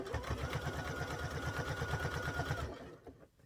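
A sewing machine stitches binding onto a quilt in a steady, rapid mechanical rhythm, close and even, then stops abruptly near the end.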